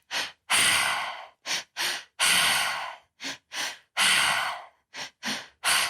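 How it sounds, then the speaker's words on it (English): A breathing exercise of two quick inhalations followed by one exhalation through the mouth, repeated in a steady cycle of loud, close, airy breaths with silent gaps and no talking. "It's 2 breaths in and 1 breath out."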